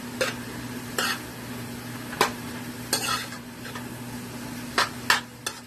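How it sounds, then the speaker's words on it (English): Peas and carrots are stirred into rice frying in a pan, with a steady sizzle broken by several sharp scrapes and clacks of the utensil against the pan, close and without talk. "I'm just going to go ahead and I'm going to stir that up"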